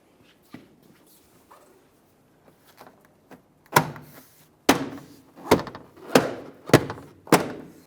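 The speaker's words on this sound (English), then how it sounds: "align each one of those push clips and then press the door panel into the proper position" Scattered light taps, then a series of sharp thumps and snaps, roughly one per second, as plastic push clips on a rear door panel of a 2002-2009 Chevrolet Trailblazer are pressed firmly into place nearby.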